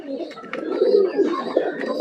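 Pigeons kept on a small hobby farm coo softly and repeatedly at close range, their low throaty calls running on without a break.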